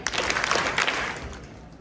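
An audience at a high school candidate speech event applauds, a brief burst of many hands clapping that fades toward the end, moderately loud in a large room.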